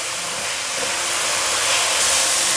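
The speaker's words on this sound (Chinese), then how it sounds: "现在放入芹菜， 快速翻炒" Celery stir-frying with seasonings in a hot wok gives a steady, loud sizzling hiss that runs unbroken throughout, no voices.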